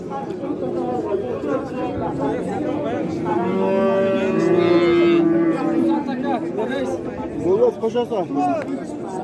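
Cattle moo loudly at the Ozgon livestock market, one long drawn-out call rising above a steady hubbub of crowd chatter and nearby voices talking.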